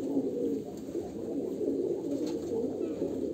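Ringed pet pigeons kept at home, including a female, keep up a dense, throaty cooing close by, pulsing in repeated rolling phrases throughout with no voices.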